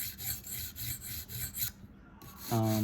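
Steady back-and-forth rasping as a Spyderco Manix 2 knife blade is stroked across a whetstone, rhythmic rubs close up for most of the clip, then a pause and a brief tonal scrape at the end.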